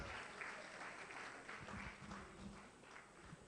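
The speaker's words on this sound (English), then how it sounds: "Please, another round of applause for the panelists" Quiet, distant applause for a panel at a youth business exhibition session, a steady wash of many hands clapping, heard faintly.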